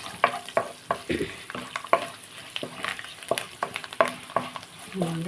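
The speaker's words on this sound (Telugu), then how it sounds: "వేగిపోతుంది కదా క్యాబేజీ వేసుకున్నాం" Cabbage fries in a pan for a curry, with a steady close sizzle. Frequent scraping and clinking stir strokes repeat throughout.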